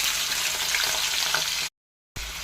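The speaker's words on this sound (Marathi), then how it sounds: "तेल गरम झालेलं आहे। आता आपण यामध्ये बटाटे ॲड करूया।" Potatoes hit hot oil in a pan and set up a steady, close sizzle of frying that cuts out briefly before resuming.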